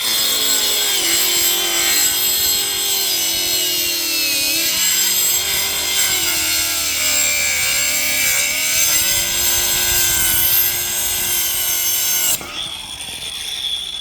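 Cut-off wheel on a power tool scoring a line into plywood, a loud continuous high-pitched grinding whine with shifting pitch that runs steadily for about twelve seconds, then cuts out abruptly into quieter background noise.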